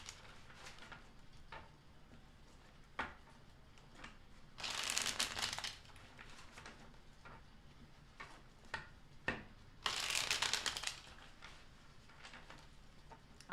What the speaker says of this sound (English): Flash shuffle.